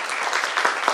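Loud audience applause at a Marathi shahiri folk performance event, a dense burst of clapping that swells slightly toward the end.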